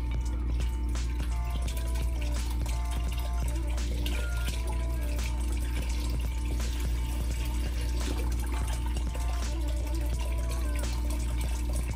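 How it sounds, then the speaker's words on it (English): Vegetable broth pours into a soup pot for a spicy vegetable bean soup, a steady liquid pour running for the whole stretch over a constant low kitchen hum. "And then I'm gonna add the veggie broth."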